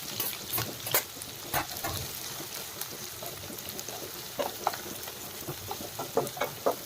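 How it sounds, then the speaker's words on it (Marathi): Chopped onion and green chilli sizzle in hot oil for shevai upma, a steady crackling fry with scattered stirring clicks and scrapes, moderately quiet and free of talk. "छान असा आपला कांदा फ्राय झालेला आहे"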